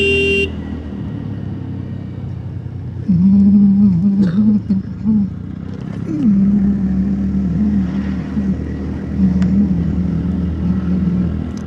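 Vehicles pass on a mountain road near Kodaikanal: a steady engine drone with rising revs and short horn toots, loud and close, with faint voices in the background.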